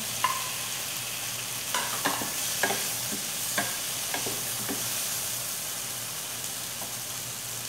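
Chicken pieces sizzle and fry in a pan with tomatoes for kinamatisang manok, with a steady frying hiss broken by several sharp scraping stirs at irregular intervals, close and moderately loud.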